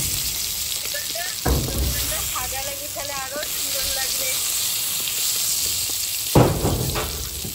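Pointed gourd (potol) frying in a pan of oil gives a steady, close sizzling hiss throughout, with a couple of sharp clattering knocks and a voice speaking briefly over it.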